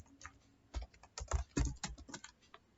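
Computer keyboard keys are typed while writing C code, with quick irregular bursts of close clicks that build into a denser flurry midway and then taper off, and no talking.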